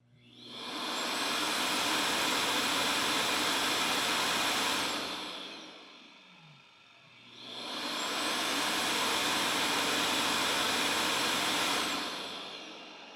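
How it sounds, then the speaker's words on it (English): A Yeedi C12 Combo self-empty station runs twice, emptying the cordless vacuum and then the robot vacuum: two loud, close, sustained suction roars, each ramping up, holding about five seconds, then dropping off, separated by a brief lull. "when we initiate a self-empty, you'll see it run twice. That will be for the cordless vacuum and for the robot vac."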